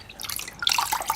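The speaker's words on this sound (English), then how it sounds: "wring it out so it's not dripping." Cold water dripping and spattering from a towel as it is wrung out, a close, brief patter of irregular drops that grows busier in the second half.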